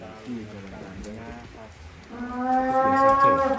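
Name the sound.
cow mooing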